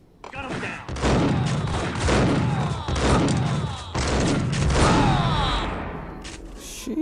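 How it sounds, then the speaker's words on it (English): Bursts of gunfire from the video game Max Payne come in rapid, heavy volleys, loud and booming, recurring in repeated waves with brief pauses between them. "Gun him down!"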